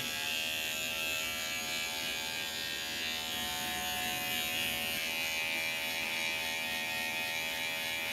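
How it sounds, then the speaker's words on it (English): An electric clipper trims along the bottom of a beard, giving a steady, close, even buzzing hum that runs unbroken with no talk over it. "Let's run through with the clipper real fast on the bottom."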